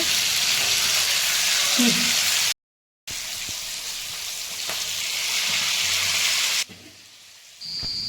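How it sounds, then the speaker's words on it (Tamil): Fish frying in oil over a slow flame, a dense steady hiss and crackle close up, broken by a short silent gap and then dropping quieter near the end. "நான் எப்பவுமே மீன் வறுக்கும் போது ஸ்லோ ஃப்ளேமில் தாங்க வச்சு வறுப்பேன்"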